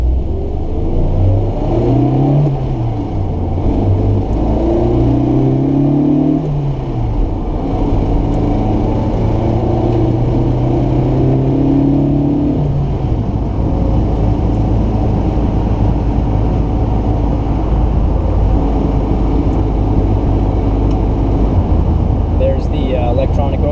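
A Volvo P1800 engine revs while driving, rising and falling through the gears in a steady loud rumble that smooths into even cruising, with someone talking over it inside the car.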